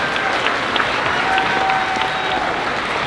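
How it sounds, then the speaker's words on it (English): Steady, dense applause from an audience at a fifth-grade moving-up ceremony in a school hall, loud and unbroken for its whole length, with faint crowd murmur underneath. "Let's give them another round of applause."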